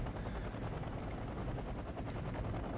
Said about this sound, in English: These are scout helicopters.